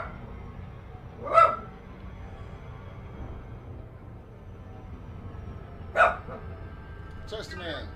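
A dog named Chester gives two separated barks indoors, a few seconds apart, mid-distance and moderately loud over a low room hum, with a faint extra noise at the end.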